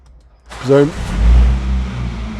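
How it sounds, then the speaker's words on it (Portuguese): A Mini Cooper S Cabrio engine is started with a push button, a brief starter whirr and catch rising into a low, steady idle rumble that holds to the end. "você ouve o lindo ronco do motor"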